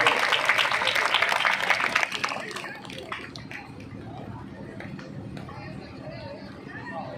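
Loud applause from a crowd at a Shri Shyam devotional jagran gathering, a dense burst of clapping that fades after a couple of seconds into murmuring crowd chatter and talk.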